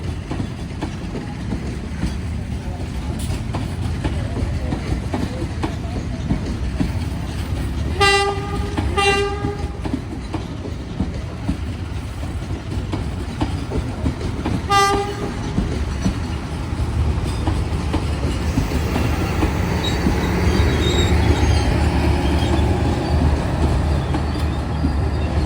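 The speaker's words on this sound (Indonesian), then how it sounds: "Jalur 3 stasiun Bandung itu sudah terlihat lokomotif CC206 teman-teman." A train hauled by a CC206 locomotive arrives at Bandung station, its horn giving two short toots and then a third a few seconds later over a continuous rolling rumble and clatter of cars, with no voices.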